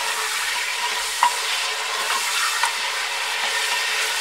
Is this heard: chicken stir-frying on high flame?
yes